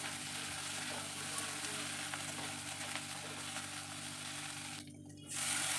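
Tomatoes sizzle loudly in a pan with ginger, garlic and onion paste and ground spices, a dense continuous frying hiss that dips briefly near the end before returning.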